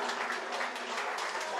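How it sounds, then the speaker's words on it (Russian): Brief, fairly quiet burst of audience applause at a Brooklyn stand-up comedy benefit show, a short run of scattered clapping. "Аплодисменты, Рута!"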